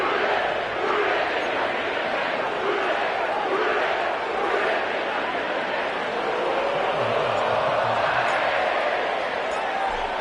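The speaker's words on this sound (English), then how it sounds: "sellout crowd has arrived at Paycor Stadium in Cincinnati" A sellout stadium crowd roars at Paycor Stadium in Cincinnati before a football kickoff on the Ohio riverfront, a dense, steady wash of cheering and chatter that stays loud and unbroken throughout.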